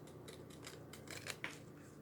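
Scissors snipping around a Chalk Couture chalk transfer sheet, a run of soft, quick close-up cuts with a couple of sharper clicks near the end, quiet and alone.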